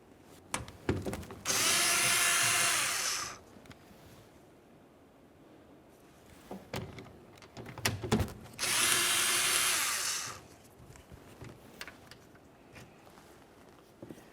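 A power drill whirs in two loud sustained bursts of a couple of seconds each, removing 10mm mounting screws from a 2012-2018 Nissan Altima's exterior mirror, separated by clicks and handling clatter, close up.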